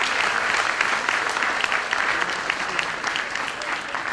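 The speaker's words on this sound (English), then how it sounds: "a huge round of applause for all these students from Symbiosis and many other institutes here" Big round of applause for students from Symbiosis and other institutes at a memorial lecture, dense continuous clapping from a large audience, easing slightly near the end.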